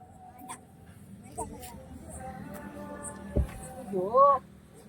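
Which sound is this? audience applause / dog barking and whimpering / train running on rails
dog barking and whimpering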